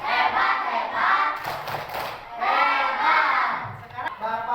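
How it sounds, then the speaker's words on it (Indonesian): Children in a Class IV primary school science lesson clap and shout together in bursts, a teacher's voice leading the cheer between rounds. "Tepuk hebat dulu buat Rina."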